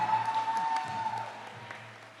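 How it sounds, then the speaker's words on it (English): Audience in a commencement hall applauding for graduates, a soft steady patter of clapping that fades toward the end, with a faint tone running underneath. "Your job tonight is to hoot and holler in support of your graduates and everybody in the room."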